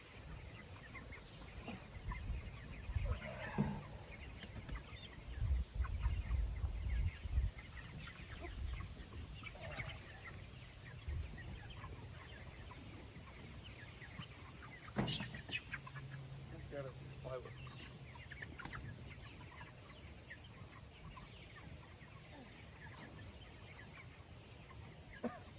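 Chickens cluck and a rooster calls now and then across a busy coop, with people talking nearby and some handling noise.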